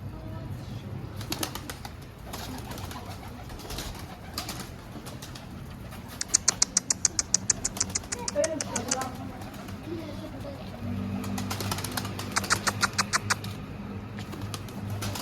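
Birds flutter and call nearby in scattered bursts, including a rapid series of flaps, while people talk in the background.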